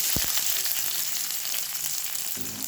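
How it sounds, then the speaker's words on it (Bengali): Chopped onions frying in oil with black cumin for a ridge gourd bharta, giving a steady close sizzle throughout with a brief stirring clatter near the start and again at the end. "পেঁয়াজগুলোকে হালকা একটু ভেজে নেবো"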